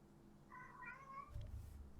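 A cat meows in a room, a short drawn-out call with a rising, wavering pitch, heard close and alone over a low steady background hum.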